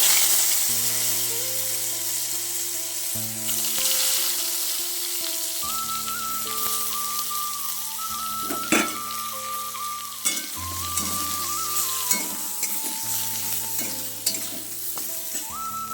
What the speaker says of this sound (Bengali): আর ওই তেলের মধ্যে আমি প্রথমে বেগুনগুলো দিয়ে ভেজে নেব